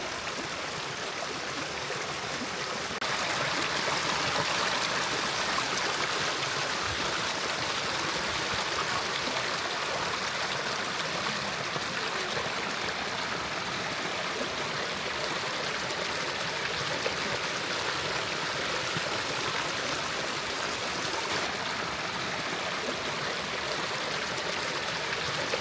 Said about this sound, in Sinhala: වතුර පාරක් ගලාගෙන යන සද්දේ